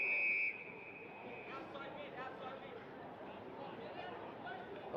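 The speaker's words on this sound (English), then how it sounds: "Got a whistle here." Umpire's whistle at a WAFL Colts football match between East Perth and Subiaco, a single loud sustained blast at the very start, cutting off quickly into steady crowd chatter and a commentator talking.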